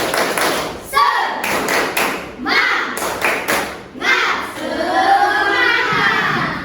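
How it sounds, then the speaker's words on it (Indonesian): A school class claps a rhythmic spirit chant together, bursts of sharp, close claps in patterned groups with short pauses between, children's voices mixing in over the clapping. "Coba sekali lagi, tepuk semangat."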